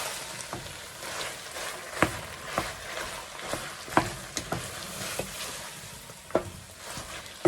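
Plantain and gizzard are stirred in a frying pan over steady sizzling, with repeated sharp scrapes and taps of the utensil against the pan, close up and without talk.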